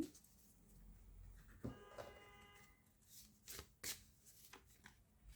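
Moon Oracle cards are shuffled by hand in quick riffling bursts with soft slaps and taps between them, close and fairly quiet with no talking.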